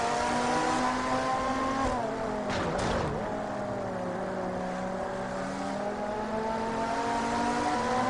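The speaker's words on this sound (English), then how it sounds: "That car up there, that Panaz just has such a great sound to it." A Panoz GT race car engine in the Total Immersion Racing video game, a steady loud droning roar with shifting harmonic tones and a brief dip midway, heard alone without talk.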